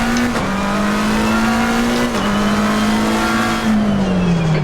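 A GT3 race car lapping the Spa circuit, its engine droning loud and steady from on board with small pitch shifts through gear changes and a long gradual fall at the end.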